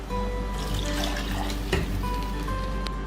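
Tamarind water is poured into a cooking pot already holding tomato and mushroom, making a continuous close splashing pour with a steady liquid rush.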